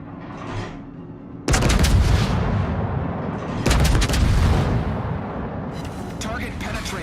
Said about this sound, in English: Oh, he's shooting me from over the mountain.